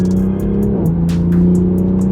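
A modified Toyota Supra engine hums under acceleration, its steady tone dipping briefly as it shifts gear and then pulling on smoothly, heard from inside the car with light ticking noises.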